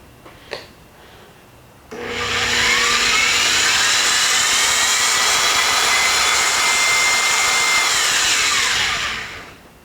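A bead roller fitted with shearing wheels cuts through sheet metal, a sustained loud grinding, rubbing whine that starts abruptly after a brief knock and runs steadily for about eight seconds before tapering off.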